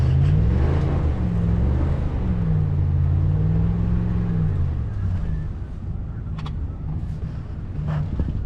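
A four-wheel-drive vehicle stuck in about a foot of deep snow, its engine revving loud and close in rising and falling surges as the wheels spin and traction control cuts in, with no talk.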